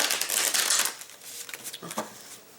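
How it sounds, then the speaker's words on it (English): Cards being shuffled up close, a dense riffling rush that trails off into a few scattered shuffles and taps. "I'm gonna shuffle these again"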